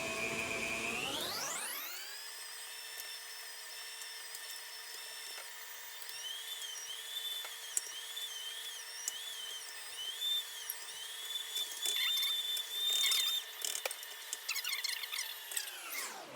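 Small electric meat grinder coarsely mincing meat for a country-style pâté, a steady high motor whine running close and loud throughout after a quick spin-up, with pitch wavering slightly as chunks feed through.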